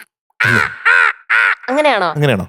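A person's voice imitates a crow's caw with a string of loud, nasal, close-up "caw" calls, evenly spaced, followed by a spoken question.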